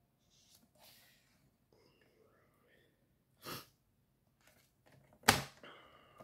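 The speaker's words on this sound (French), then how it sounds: "Je m'excuse pour les reniflements" A few sharp, breathy nasal sniffs spaced apart in a quiet room, the last one loudest, with faint rustling between them.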